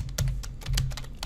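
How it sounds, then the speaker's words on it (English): Fingers tap on a computer keyboard in quick uneven bursts, each keystroke a close, crisp click over a low background hum, with no voice. "Now notice when I start typing"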